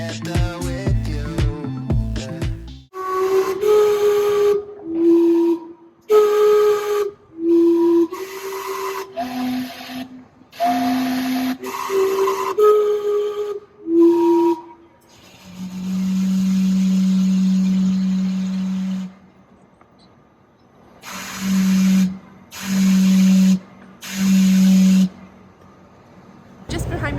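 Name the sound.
Gastown steam clock whistling in Vancouver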